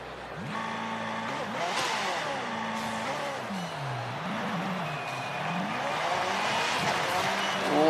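A stock McLaren in Forza Horizon 5, driven at night, roars with a loud, continuous engine note that repeatedly revs up and drops back through gear changes, with a possible tyre squeal.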